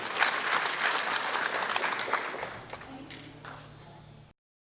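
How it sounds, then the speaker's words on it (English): An audience claps at an Indian Arrival Day celebration in Trinidad and Tobago, a dense, sustained round of applause from a crowd that gradually thins out over a few seconds before cutting off. "Let's give them winners a round of applause again, please."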